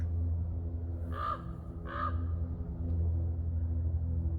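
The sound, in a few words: crow calling in the woods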